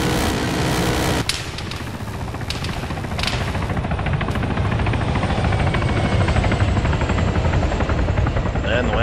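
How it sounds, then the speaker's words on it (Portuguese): A helicopter's rotor thumps loudly and continuously, with a few sharp bangs near the start, in a battle scene in the video game Arma 3. "O helicóptero tá voltando, fica ligado."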